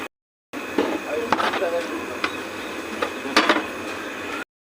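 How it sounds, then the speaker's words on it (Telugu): Chicken masala being mixed in a pot on a stove: close scraping and clinking of a metal spoon against the pot, in irregular strokes with a few louder knocks. "ఇంగ్రీడియంట్స్ అన్నీ పెట్టి కలిపిన తర్వాత ఇంకిప్పుడు బాగా మిక్స్ చేస్తారు"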